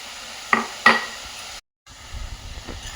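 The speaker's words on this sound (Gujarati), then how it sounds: "આ રીતે આપણે વ્યવસ્થિત બધા વેજીટેબલ શેકી લેશું." Mixed vegetables seasoned with pepper and salt are stirred and roasted in a pan for momo filling. Two sharp utensil knocks are followed by a brief dropout, then quieter, uneven scraping with a low hiss.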